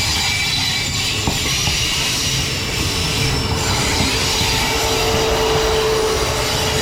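A Queensland Rail train passes close by, loud and continuous, with rumbling wheels, steady rail noise and a thin squeal running throughout.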